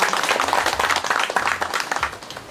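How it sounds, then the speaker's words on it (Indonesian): A crowd at an Indonesian government visit event in Garut claps in response to a call to welcome the deputy home affairs minister, a close, brisk, uneven round of applause. "Tepuk tangan dulu untuk"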